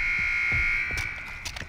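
An alarm in the video game Far Cry 4 sounds as a steady, loud electronic buzzing tone, joined by scattered in-game thuds and clatter as it continues.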